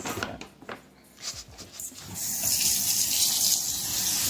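Rice being rinsed in a bowl of water with the hands, two cups' worth: soft sloshing and small splashes at first, then a louder, continuous watery rush like running water during the last couple of seconds.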